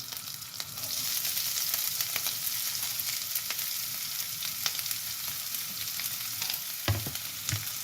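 Chopped green chili and onion fry in a pan for a methi bhaji, giving a steady, close sizzle with occasional stirring clicks throughout.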